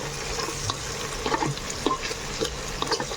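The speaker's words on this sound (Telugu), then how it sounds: "2 నిమిషాలు ఇలాగా ఆయిల్లోనే కలిపేద్దాము." Bottle gourd and chicken curry stirred in hot oil, with a steady frying hiss and soft scraping clinks of a spoon against the pan at intervals.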